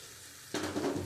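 Raisins, cashews and garam masala hit hot fat in a pan for a Bengali fish-head muri ghonto, bursting into a sudden close sizzle halfway through after a quiet start, with no talking.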